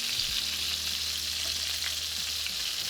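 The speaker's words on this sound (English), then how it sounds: "just sear the rest of our meatballs" Meatballs sear in hot oil in a pan, giving a steady, close sizzle and crackle that holds at an even level throughout with no voices.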